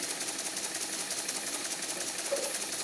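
An old Empire No. 90 toy steam engine, roughly 85 years old, runs with a steady, fast mechanical chatter and hiss at an even level throughout.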